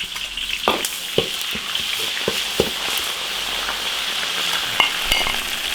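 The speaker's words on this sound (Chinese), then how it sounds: "配好的调料下锅炒香。" Prepared spices stir-fried in hot oil in an iron wok, a steady loud sizzle with scattered sharp crackles and occasional spatula scrapes throughout, no talking.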